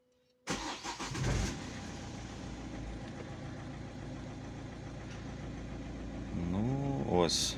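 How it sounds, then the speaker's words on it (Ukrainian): An Opel Zafira engine cranks and catches after its EGR valve and throttle are cleaned, then settles into a steady idle close by, with a brief voice murmuring near the end. "Отже, пробуємо завести наш автомобіль."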